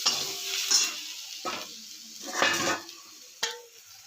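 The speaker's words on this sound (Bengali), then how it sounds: "ঝাল ঝাল লঙ্কা, কাশ্মীরি না, এগুলোকে একটু ভেজে নিচ্ছি। একটু জিরে গুঁড়ো দিয়ে দিলাম" Hot, spicy dry red chillies with ground cumin fry in a pan, a soft sizzle broken by several distinct scraping stirs of a utensil against the metal at irregular intervals, close and moderately quiet.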